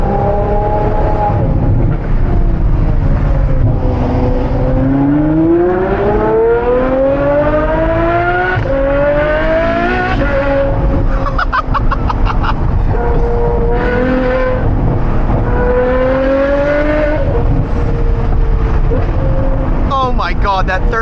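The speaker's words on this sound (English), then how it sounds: "that third gear downshift is just unreal" A straight-piped Ferrari V12 howls up close, climbing through repeated high-pitched revs, then crackling and popping on downshifts, loud and continuous for the whole stretch.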